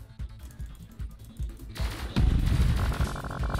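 Gunfire in an anime-style platform game, heard as a rapid series of punchy low thumps that builds into a denser, louder burst of shots layered over busy game sound.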